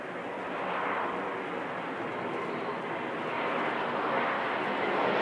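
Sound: Southwest Airlines airplane flying overhead

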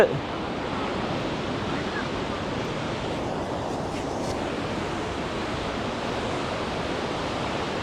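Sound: sea waves on the beach at Cox's Bazar

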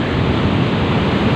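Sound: big sea waves breaking on a beach

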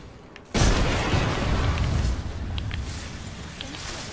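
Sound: gunshot in the video game Apex Legends

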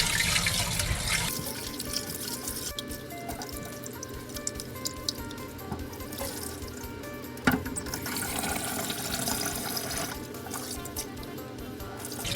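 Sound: washing glutinous sticky rice in water

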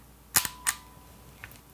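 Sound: Kodak Pony IV 35mm film camera winding and shutter clicking

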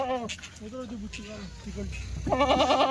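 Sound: Kathewadi goats bleating at a farm

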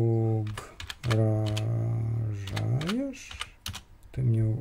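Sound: typing on a computer keyboard

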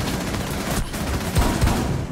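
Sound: gunfire in a video game

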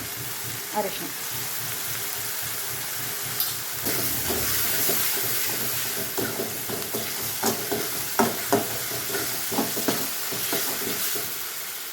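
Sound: adding ground raw masala paste to vegetable sambar

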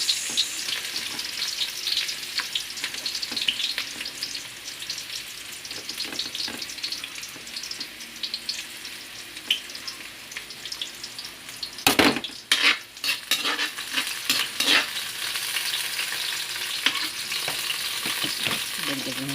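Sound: onions frying in pan for chicken adobo

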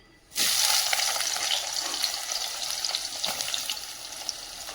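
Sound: mustard seeds and onions frying in oil in a pan

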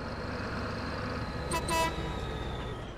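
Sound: tractor horn honking in Farming Simulator 22 video game

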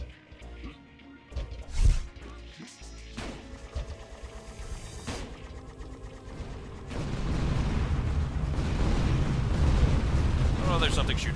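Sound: enemies shooting at player in Tower of Guns (video game)

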